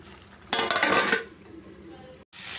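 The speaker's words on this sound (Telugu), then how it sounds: "మళ్ళీ మూత పెట్టి ఉడికించుకుందాం" A lid set back on a pot of raw prawn curry gives a loud close metallic clatter and scrape lasting about a second, followed by a quiet simmer and another burst of kitchen noise.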